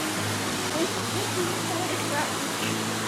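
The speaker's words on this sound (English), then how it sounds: "Look, there's a waterfall." A waterfall in a koi garden gives a steady, even rush of falling water throughout, close and constant, with faint voices in the background.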